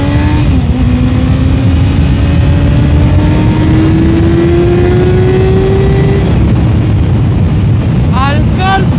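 A loud four-cylinder Honda CBR 600 F3 sport motorcycle engine revs up steadily in a rising whine, close and strong, with wind rushing past and a quick shift near the end.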